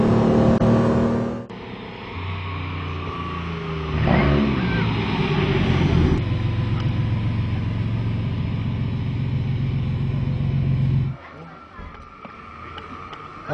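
TVR Sagaris sports car accelerating on a drift and grip driving course, engine loud and close with rising revs, a short break and gear change, then sustained throttle before lifting off.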